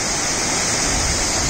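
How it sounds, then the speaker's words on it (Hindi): Small waterfall at Shikhar Fall near Dehradun pours in a steady, close, dense rush of water, continuous and unbroken with no voices over it. "छोटे छोटे झरने आपको मिलेंगे"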